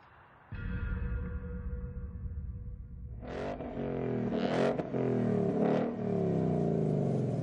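A car engine in The Grand Tour video game idles, then revs hard in several rising bursts during a launch-control start, with a steady loud roar between them, close and continuous.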